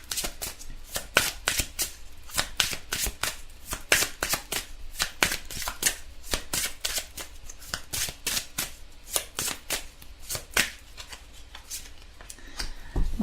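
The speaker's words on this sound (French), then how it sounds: "Alors, on va tirer une carte pour voir l'énergie du jour," Tarot cards are shuffled continuously before a draw, a close, steady stream of papery riffles and snaps lasting several seconds with no talking.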